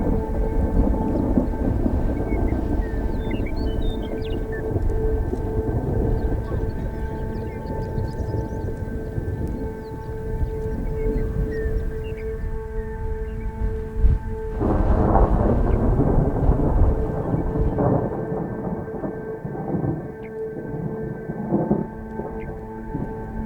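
A Tornado Alley thunderstorm rumbles with rolling thunder over steady rain, a louder crash of thunder breaking midway before the storm eases off.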